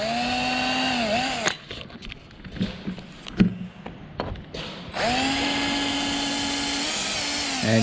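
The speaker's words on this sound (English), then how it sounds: "The drill tends to drift" Power drill boring holes through a plexiglass aircraft canopy, a loud steady whine with harmonic overtones that dips briefly, breaks off for a stretch of quieter handling clatter, then resumes close and sustained.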